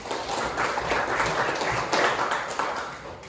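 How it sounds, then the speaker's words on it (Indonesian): Applause from a group during a classroom teaching session, sustained dense clapping that holds steady for a few seconds before tapering slightly at the end. "Silakan tepuk tangan untuk kita semuanya"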